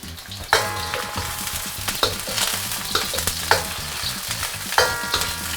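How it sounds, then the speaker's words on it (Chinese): Scallion, ginger and garlic stir-fried in a generous amount of hot oil in a wok. The sizzle is loud and steady, with sharp clatters of the spatula every second or so, close up and without speech. "首先我们起锅烧油，油可以稍微多一点。 下入葱、姜、蒜，我们先把它爆香起来。"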